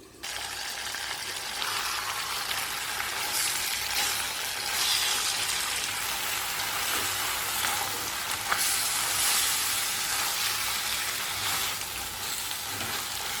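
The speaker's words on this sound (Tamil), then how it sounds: "ஒரு நிமிஷம் வதக்கி விடலாம். இடையிடையே கிளறி விடணும்." Ingredients for Chettinad crab curry sautéing in a pan, a steady, bright hiss of frying oil that holds evenly with occasional faint clinks of stirring and no talking.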